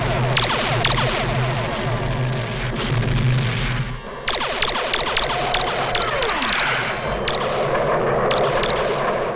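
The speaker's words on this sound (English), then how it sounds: "We're moving too fast to see the origin of those blasts" Cartoon blasts fired at a spaceship in a Space Ghost animated adventure, a loud, dense barrage of booming shots and explosions that repeats rapidly, with a brief dip before the firing resumes.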